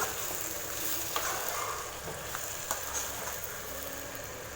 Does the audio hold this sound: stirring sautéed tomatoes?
yes